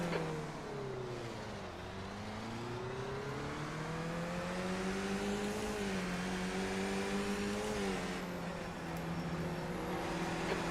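A Skip Barber race car in a Belle Isle racing game drones with a steady engine note that rises and falls through gear changes and throttle lifts, loud and continuous with no talk.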